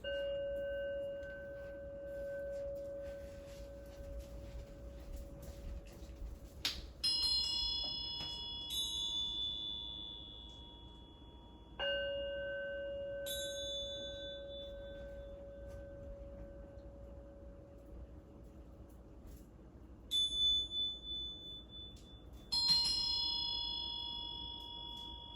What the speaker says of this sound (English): And the bell ringing will begin now.